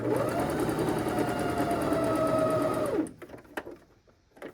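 A sewing machine runs steadily, stitching fabric beneath the presser foot while sewing small pants for a marionette; a loud continuous whir holds for about three seconds, then stops, leaving faint handling clicks.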